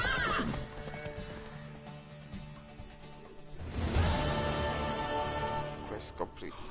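A horse whinnies and hooves clip-clop over a busy soundscape in the video game The Witcher 3: Wild Hunt, with a voice and other sounds layered underneath.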